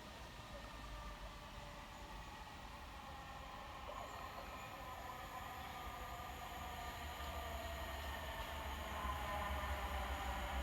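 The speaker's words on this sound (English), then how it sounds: "Platform 2 for the 10:15 London Overground service to Cheshunt" A London Overground train at White Hart Lane station rumbles steadily and grows gradually louder, with a faint metallic wheel squeal on the rails, and no talking.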